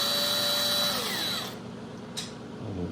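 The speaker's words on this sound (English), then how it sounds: "so I simply use a drill." A handheld power drill boring holes in pieces of a homemade bird feeder lid for wiring, a close steady whine that winds down and stops partway through, followed by quiet room noise and a faint knock.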